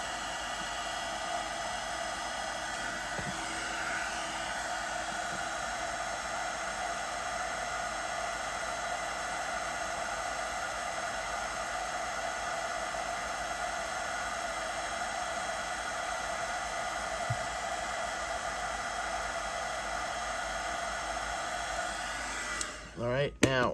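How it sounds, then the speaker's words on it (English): A heat gun with a shroud hisses in a constant, even airflow while heating shrink tubing on LED wiring for a miniature book nook, running nearly unchanged throughout before a brief clatter of handling at the end. "now the heat gun's got a good shroud, at least this one"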